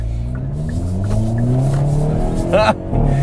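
A 2022 Hyundai Kona N hatchback accelerates at half throttle, its engine note rising steadily in pitch and loud throughout, with a brief sharp burst near the end.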